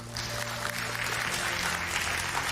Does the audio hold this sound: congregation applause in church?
yes